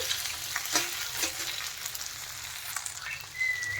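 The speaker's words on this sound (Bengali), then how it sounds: "দেখেন লতিগুলো কিন্তু হালকা ভাজা হয়ে গেছে।" Taro stolons lightly frying in a pan produce a close, steady sizzle broken by occasional utensil taps and scrapes, with a brief thin high whistle-like tone near the end.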